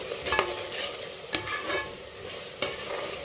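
Chopped green chillies go into a pan with rice and moong dal and are stirred, giving soft frying hiss and three sharp spoon knocks against the pan, close and alone.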